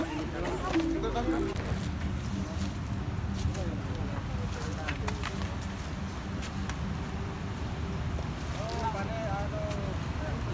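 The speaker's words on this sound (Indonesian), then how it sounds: "Oh ini angin jadi bahaya." Strong wind buffets the microphone outdoors at a protest, a constant rough rumble running throughout while people talk over it.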